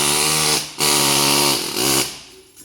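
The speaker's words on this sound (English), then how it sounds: "It's a descaler. It's like an air hammer with a whole bunch of little things on it." A pneumatic descaler, an air-hammer tool with many small needles, chatters against a corroded wheel bearing on a 2004–2009 Toyota Prius, loud and close in buzzing bursts with brief pauses between.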